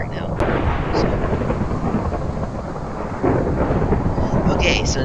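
Thunder rumbles over steady rain in a Minecraft thunderstorm from a tornado mod, a loud continuous wash of storm noise with a brief crack near the start and a swell later on, no talk over it.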